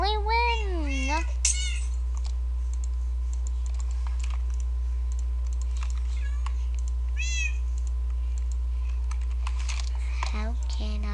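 Minecraft cats let out several rising, wavering meows, a cluster at the start and others near the middle and end, over steady keyboard clicking and a constant low hum.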